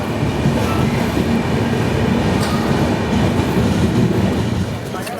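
Capital Express passenger train running between stations, a loud, continuous rumble and rattle of carriages heard from inside the coach, with faint wheel squeal.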